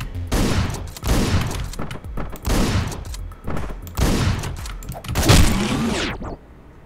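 Shotgun blasts in the Hotline Miami 2 video game, with about five loud, booming shots spaced roughly a second apart, each trailing off into a short decay.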